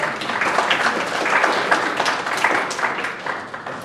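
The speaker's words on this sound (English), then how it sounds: "Please give a round of applause to Ms. Nikita" An audience at a student panel event celebrating Malcolm X for Black History Month breaks into dense, sustained applause that holds steady for a few seconds, loud and close, without speech.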